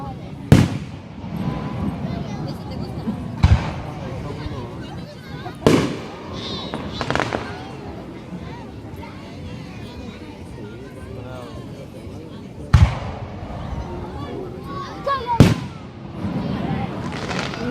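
Fireworks bursting outdoors, with half a dozen sharp, loud booms spaced irregularly over a steady crowd murmur, and people chatting and cheering throughout.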